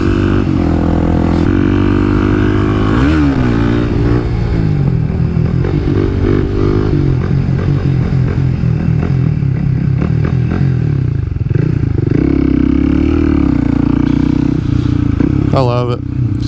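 A Kawasaki KLX300 dirt bike rides on the way to a quarry, its engine droning loud and close with rising and falling revs and gear changes, wind and clatter over it, and a voice talking underneath.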